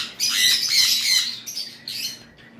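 Lovebirds kept for sale squawk in loud, harsh bursts, several overlapping calls near and continuous at first, then a few separate squawks toward the end, with no talking.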